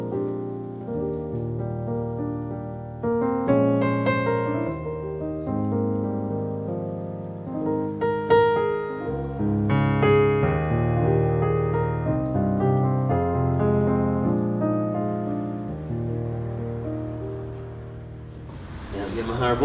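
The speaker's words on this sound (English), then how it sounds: "So your Bösendorfer sounds like this." The Bösendorfer grand sample on a Yamaha Clavinova CLP-series digital piano plays sustained chords and a melodic line, richly resonant and close, continuing steadily with no talking.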